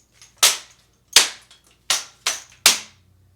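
A ceremonial drill rifle slapping from hand to hand during a false spin, five sharp, crisp smacks in an even beat, close and loud against near silence.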